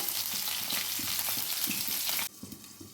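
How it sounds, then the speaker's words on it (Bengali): Paneer with chopped capsicum, chilli and tomato sizzles loudly and steadily in a pan, a dense crackling hiss that stops abruptly near the end, leaving only faint clatter. "এগুলো দিয়ে আমরা 2-1 মিনিট ভেজে নিচ্ছি"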